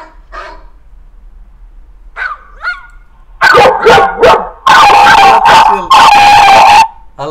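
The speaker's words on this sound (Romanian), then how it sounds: "A lătrat și el, nu?" A dog barks loudly and close in a run of heavy, repeated barks, preceded by a few softer yips and whines.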